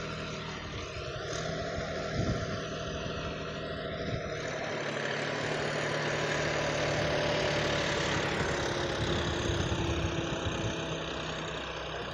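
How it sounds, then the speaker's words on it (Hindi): John Deere 5210 tractor pulling a load in third gear, its diesel engine giving a continuous mid-pitched rumble and drone that stays steady and fairly close throughout, with no voices over it. "तो दोस्तों ये है लोड का third gear John Deere 5210 tractor"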